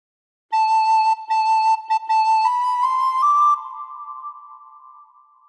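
Recorder playing a phrase of What Shall We Do With the Drunken Sailor, clear single notes tongued in a short rhythmic pattern, then a held note sliding to a lower pitch and fading, close and alone.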